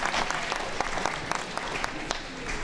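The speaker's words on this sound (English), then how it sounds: "Let's clap our hands for her as she comes." Clapping from an audience at a Chicago gathering as a guest walks to the podium: dense, moderately loud applause with sharper individual claps popping out, heard with no voices over it.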